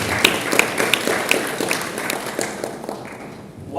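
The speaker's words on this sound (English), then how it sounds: "Please clap for them." An audience claps for children at a life skills education conference, a steady patter of hand claps that runs throughout and fades slightly toward the end, with no talking over it.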